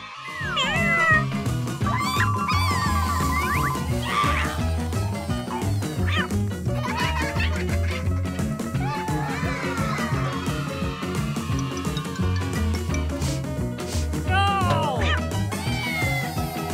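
A cat meows repeatedly amid a busy cartoon soundtrack with music and chirpy effects, the meows rising and falling several times across the scene.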